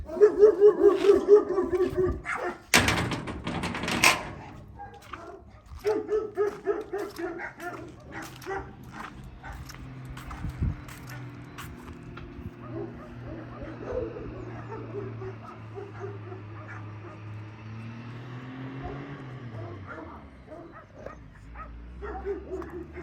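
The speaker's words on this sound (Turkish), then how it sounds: "Aşağıdan bir köpek havlıyor." A dog barks and yips in short bursts early on, then faint whimpers and distant barks continue under a low steady hum and some background voices.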